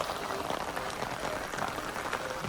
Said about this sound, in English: Well, it's raining moderately right here